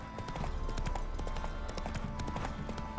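Roach, Geralt's horse in The Witcher 3, trots with rhythmic clip-clopping hooves on hard ground, steady and fairly close.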